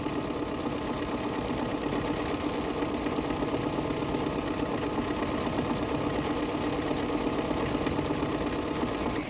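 An embroidery machine stitches sashing for a quilt sampler, a continuous rapid mechanical whir with steady needle chatter, close and unbroken throughout with no talking.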